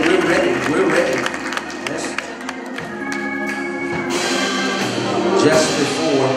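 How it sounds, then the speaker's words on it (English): A church congregation at a baptism service claps hands in praise, with scattered, uneven claps spreading through a lively crowd. Voices and speech carry over the clapping throughout. "let's give the Lord a hand clap of praise"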